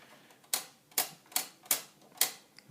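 Five crisp, evenly spaced mechanical clicks from an Underwood 319 manual typewriter, sharp and close, in an otherwise quiet room.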